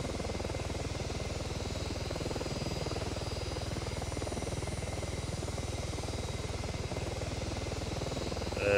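Helicopter in the ArmA 3 video game flying and hovering, a steady close rotor thump and engine drone running without pause, no voices.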